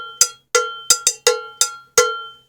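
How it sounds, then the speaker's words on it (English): Seven bright cowbell strikes, muted and unmuted with the index finger, ring out in an uneven rhythm, close and clear with short decays and no voices. "that's the basics of playing the cowbell"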